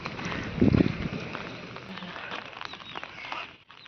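Steady rain patters on the ground, a dense, continuous hiss of drops close by, with no voices.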